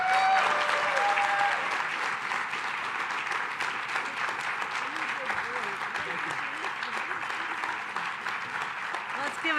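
Applause fills a crowded room at a mayoral announcement with the New York governor, dense sustained clapping that stays loud and steady, with a voice faintly heard early under it.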